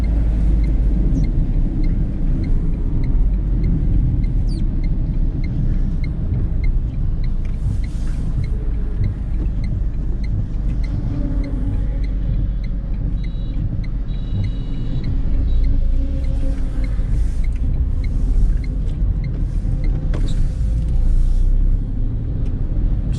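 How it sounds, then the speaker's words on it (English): A 2020 Tata Tiago petrol car making a U-turn, with a steady low engine and road rumble from inside the cabin and occasional faint clicks and creaks, continuous throughout with no talking. "So now I will take a U-turn."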